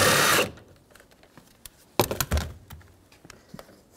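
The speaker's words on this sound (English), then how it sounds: "Now we'll take this bolt out, use a 10mm socket." A 10mm socket working a door handle bolt loose inside a 2002-06 Chevy Avalanche front passenger door, a short burst of ratcheting followed by quiet clicks and a few close metallic thunks.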